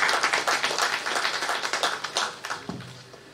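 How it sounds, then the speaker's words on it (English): Conference attendees clap for the sponsors at the 2021 National Project Management Conference welcome address. The claps are fairly quiet, distinct and quick, blending into a short, light round that fades after about three seconds. "Can we appreciate our sponsors with a huge round of applause?"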